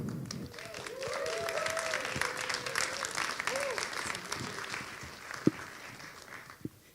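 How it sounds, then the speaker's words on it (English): An audience claps steadily for several seconds, then the applause thins out with a few scattered claps near the end. "please give a big applause for Nina Tofte Hansen"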